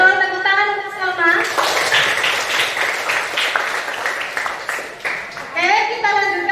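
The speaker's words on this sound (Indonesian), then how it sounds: "tepuk tangan untuk Salma" A classroom breaks into applause for a student, a dense burst of clapping from many hands lasting several seconds, framed by a teacher's voice before and after.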